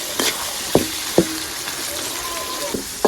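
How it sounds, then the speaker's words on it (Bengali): Chopped tomato and onion sizzle in a frying pan, a steady moderate hiss broken by a few sharp clicks of a spoon scraping and stirring the mixture. "টমেটো আর পেঁয়াজ ভালো করে মিশিয়ে সামান্য নরম করে নেব"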